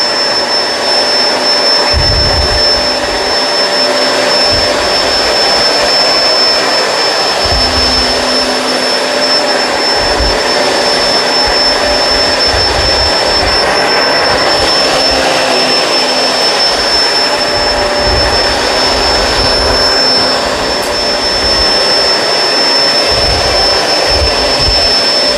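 Kenmore Crossover Ultra vacuum cleaner running nonstop during whole-house vacuuming, a loud close high-pitched motor whine with a steady airflow roar and low bumps as it moves over the floor.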